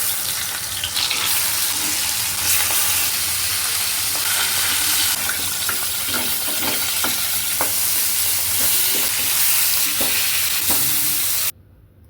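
Marinated rohu fish pieces frying in oil in a kadai, a loud, close, continuous sizzle with intermittent spatters and stirring clacks, cutting off abruptly near the end.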